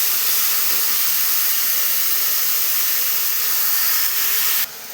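Onions and chili frying in a pan for an egg curry with coriander, giving a steady, loud broadband hiss and sizzle that carries on without a break, then drops off abruptly near the end.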